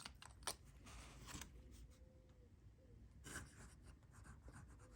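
Fountain pen writing on paper with an Esterbrook Estie flex fine nib and wet Noodler's ink; soft, faint nib scratches come in short strokes over about five seconds, with quiet rustles and no talk.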